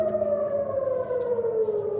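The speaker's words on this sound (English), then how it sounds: "there was a rocket warning siren" Rocket warning siren sounding in a backyard in Israel, a loud wailing tone held steadily and slowly falling in pitch, carrying outdoors without any talk.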